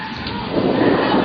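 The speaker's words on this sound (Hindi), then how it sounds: "जैसे ही हटे वैसे ही लाइटनिंग स्ट्राइक हो गई" A lightning storm brings a loud rumble of thunder over heavy, hissing rain, close and dense across the short moment.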